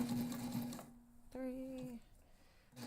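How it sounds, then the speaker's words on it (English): Sewing machine stitching down the sides of a backpack, a brief run of steady whirring in the middle, with background noise and speech-like sound before it. "So sew these sides down."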